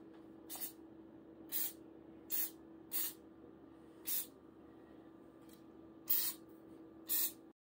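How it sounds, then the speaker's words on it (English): Several short sprays of olive oil onto a seasoned Thanksgiving turkey, about eight quick bursts spaced irregularly over a steady low room hum, close and moderately loud. "we spray olive oil to make it nice and crispy"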